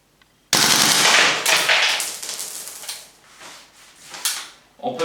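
Airsoft gun with shell ejection firing on full auto, a sudden loud close burst of rapid mechanical shots followed by fading clatter and a few sharp clicks as it stops.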